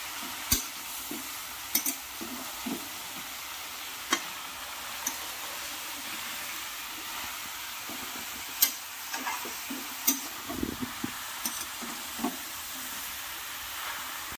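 A spoon stirs bottle gourd and prawns in a pan with turmeric and salt, producing intermittent scraping knocks over a low steady sizzle of frying, close and without talk.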